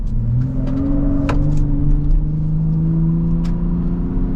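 Ford F-150 Raptor pickup accelerating in sport mode, a loud, steady engine drone that rises in pitch as it pulls, with brief shift breaks, heard close and alone.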